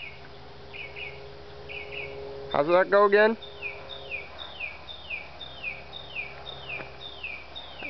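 Bird chirping, heard as short repeated high chirps and tweets around a person talking, with a louder burst of calls in the middle and faint background hum.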